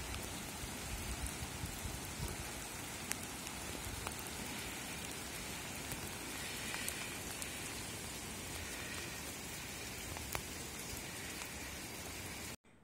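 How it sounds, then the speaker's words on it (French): Heavy rain pours down onto a road in an unbroken, dense roar of drops that holds steady and fairly loud for over twelve seconds, then stops abruptly. No voices. "il commence à pleuvoir de plus en plus fort."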